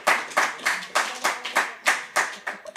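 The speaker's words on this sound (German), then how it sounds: "klatsch doch mal bitte" A small group claps in a slow, steady unison rhythm at an evening entertainment event, about ten crisp, close hand-clap bursts evenly spaced, with no talking.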